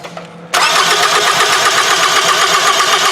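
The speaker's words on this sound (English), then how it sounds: "Alright, go ahead and crank it for me." A Toyota Camry engine cranking in a crank-no-start condition, a sudden loud, continuous starter churn that kicks in after a short quiet moment and carries on steadily to the end, close by.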